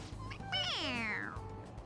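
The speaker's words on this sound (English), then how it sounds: "It meows when you press on its head." A stuffed toy cat in the video game Persona 5 Royal lets out a single drawn-out, falling meow when its head is pressed, clear and close, with faint background music beneath.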